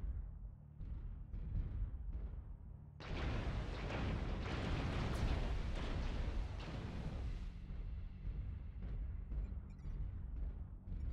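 Weapons fire and explosions in the MechWarrior Online mech combat game: a dense, loud barrage of blasts and booms starts about three seconds in and continues steadily, rumbling beneath the whole stretch with no talk over it.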